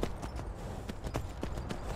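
Horse hooves in Skyrim clip-clop at a steady trotting pace, a run of sharp, fairly faint knocks with a soft background hum.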